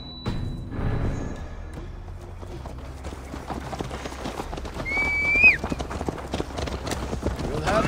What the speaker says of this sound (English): Mount up, Eivor. It's a long ride to...